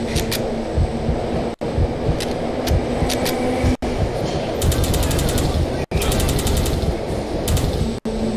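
Rapid bursts of weapon gunfire from a PC shooter game set during a subway shootout, dense and loud, in repeated stretches broken by brief gaps, with a voice speaking over it.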